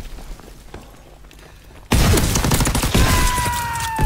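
A shotgun fires in the video game Call of Duty WWII, with a sudden loud blast followed by sustained booming, rumbling gunfire noise.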